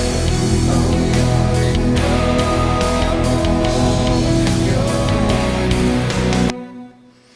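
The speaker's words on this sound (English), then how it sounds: "Those 3 get your big guitar sound." A big, thick distorted electric guitar plays chunky chords and riffs, loud and full, then rings out and fades.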